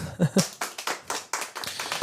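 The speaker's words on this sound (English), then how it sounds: "Do you want me why. to hit the applause button?" A short applause sound effect triggered with a button during a conversation between entrepreneurs, made of loose, uneven hand claps close and fairly loud for about two seconds.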